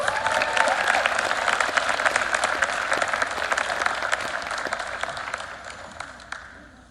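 Audience applause at a high school band holiday concert, a dense, steady wash of many hands clapping that fills the hall and slowly thins toward the end.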